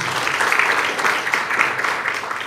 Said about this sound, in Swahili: Naomba mjipigie makofi